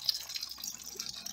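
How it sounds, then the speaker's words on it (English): Coolant drains from a KIA Ceed washer pump in a quick, close run of dripping and trickling with light splashes, no voices over it. "That's all the coolant coming out."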